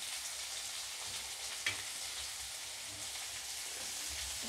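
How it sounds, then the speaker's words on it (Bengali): Mutton liver frying in a pan with ginger and chilli, a steady dense sizzle running throughout, with one brief sharper crackle near the middle. "মেটে ভাজি হলে এটা ভালো করে ভেজে নেবো"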